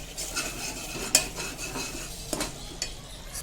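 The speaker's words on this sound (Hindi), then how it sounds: "और इसको थोड़ा चला लेते हैं हम" A spoon stirs thick masala in a cooking pan, with a soft frying sizzle underneath and a few sharp metallic clinks and scrapes against the pan, heard close and fairly quiet.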